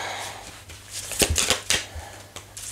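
Tarot cards shuffled for a reading, giving a quick run of crisp, papery riffles and snaps at close range, with a faint low hum underneath and no voice.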